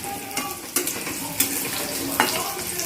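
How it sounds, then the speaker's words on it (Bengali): Potatoes fry in a pan with a continuous close sizzle, broken by several sharp scrapes and clinks as a utensil stirs them. "তো আলুটা আগে ভেজে নিই।"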